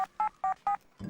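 A telephone keypad is dialed to call a doctor: three clear, evenly spaced touch-tone beeps, close and alone, ending in a short burst of low noise.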